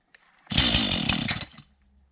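A chainsaw bites into a section of felled tree during a creekside tree removal, a loud close revving burst of about a second that then drops away to a low idle.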